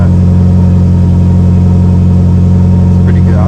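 A Mitsubishi Evo 8 idles loud and near, a constant heavy rumble with a deep steady drone that barely changes, and a brief higher noise near the end.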